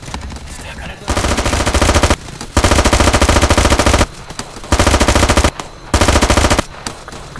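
Rapid automatic gunfire during urban warfare training, long loud bursts close by, cut by short pauses, several bursts in a row.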